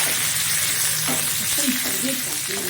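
Spices with curry leaves and asafoetida frying in hot oil in a pan, a dense, steady close sizzle with faint stirring sounds.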